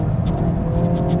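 A VW Golf GTI Edition 50 hatchback powers hard out of a corner on a twisty road, its engine note loud, close and steady throughout the short burst.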